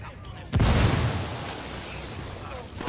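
A frag grenade in the video game Ghost Recon Wildlands goes off as one sudden loud boom, followed by a deep rumbling decay that fades over a couple of seconds.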